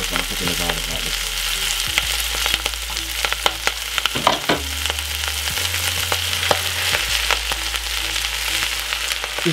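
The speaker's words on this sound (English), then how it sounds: "we're gonna put in the vegetable like this. The garlic, we're just gonna put in the garlic like this." Garlic and leftover vegetables sizzle in a hot pan for a vegan stir fry with mushrooms, a loud continuous frying crackle broken by sharp clatters as the food is stirred and tossed.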